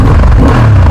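A Honda Hornet CB 750 inline two-cylinder motorcycle engine idles close by, a brief, loud, steady low rumble.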